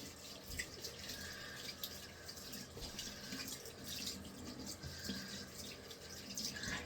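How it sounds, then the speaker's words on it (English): Tap water runs steadily over gloved hands being rinsed at a sink, a continuous splashing hiss with small shifts as the hands move under the stream. "Rinse my hands again."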